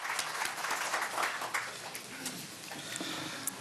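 A small audience at a neighborhood grants meeting claps steadily, scattered individual claps merging into moderate applause that fades slightly toward the end.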